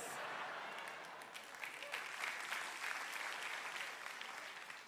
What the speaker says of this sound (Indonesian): Itu tepuk tangan menyetujui atau menghina saya juga gak tahu lah.